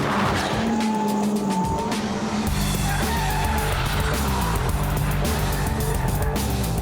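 A fast car lapping a race track at up to 110 miles an hour in fourth gear, braking hard and cornering with understeer: a loud, steady engine drone with shifting pitch and tyre squeal through the bends, no talk.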